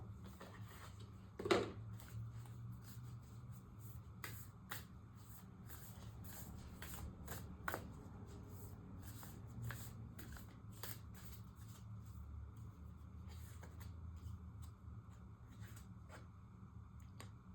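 A deck of Moonology oracle cards is shuffled repeatedly, giving soft, crisp riffling flutters and occasional sharper snaps over a steady low background hum, fairly quiet and close.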